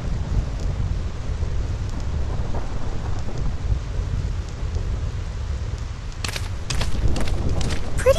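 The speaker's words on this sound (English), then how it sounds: "I hate thunder." Steady heavy rain and rumbling thunder from a thunderstorm on the Thunder Plains in Final Fantasy X, with a continuous low roar and a loud burst of crackling strikes near the end.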